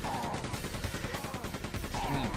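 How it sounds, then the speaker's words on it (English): Shotgun blasts in the video game Quake 2, dense rapid bursts of firing and impacts running continuously at steady loudness throughout, with no voices over them. "The shotguns have a tendency to destroy heads."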